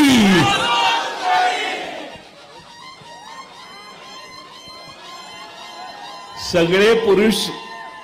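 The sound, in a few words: crowd of men cheering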